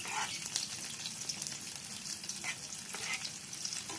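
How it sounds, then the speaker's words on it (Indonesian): Shallots sizzle steadily in hot oil over medium heat, a continuous crackling fry with occasional scraping stirs, close and fairly loud. "Langsung saja kita tumis bawang merah"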